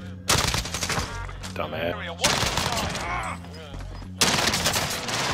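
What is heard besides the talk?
gunfire in Call of Duty Rebirth Island video game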